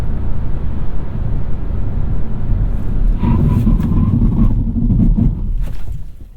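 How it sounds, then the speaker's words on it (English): A 2021 Kia Seltos making a 60-0 emergency braking stop gives a loud, steady road and engine rumble, with a brief thin squeal-like tone rising midway before the noise eases at the end. "let's do a little 60-0 emergency braking stop and a 0-60 launch"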